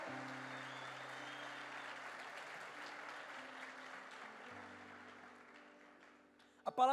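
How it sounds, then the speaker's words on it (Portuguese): Congregation at a church conference gives a round of applause, a soft even patter of many hands lasting several seconds and fading, with a sustained musical tone underneath and a brief louder sound at the end. "Vamos dar uma salva de palmas para eles,"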